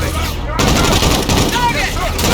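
Rapid bursts of automatic gunfire in a military shooter video game, loud and dense, with a brief cutoff before the shooting resumes, under shouted voices.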